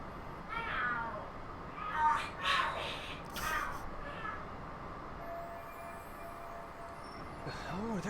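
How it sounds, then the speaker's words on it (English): Cats fight and scream in a video game scene: several shrill, wavering yowls and caterwauls rise and fall over a low background hum, loudest in the first half and fading into quieter cries. "The hell are there cats fighting?"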